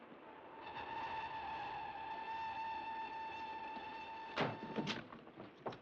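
A steady low rumble and hum of a moving train carries on throughout, with a few clanking knocks toward the end, from the 1940 film Night Train to Munich.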